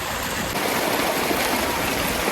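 Clear, clean water flowing and pouring down at an outdoor spot in Gujarat, a steady, close rushing and splashing that fills the whole moment with no voices.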